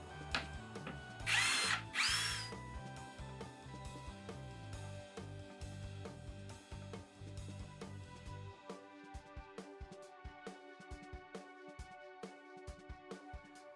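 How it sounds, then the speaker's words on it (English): A power drill drives screws for a wall bracket into a plywood wall during an LED video wall installation, with repeated close, loud whirring bursts and short pauses, then a run of sharp clicking and ratcheting taps near the end. "we can go ahead and start screwing into the wall"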